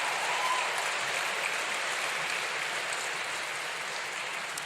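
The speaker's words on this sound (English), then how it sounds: "I was like, a round of applause again." A graduation ceremony crowd at Manchester Met University applauds a speaker, a smooth, even roar of many people clapping that holds steady throughout at moderate, slightly distant volume.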